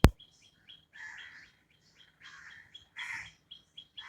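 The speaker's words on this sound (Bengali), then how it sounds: "কুক কুক কুক করে পাখিটা ডাকছে" A bird calls outdoors in a series of short repeated chirping notes, fairly faint and distant, with a sharp knock at the very start and no talking.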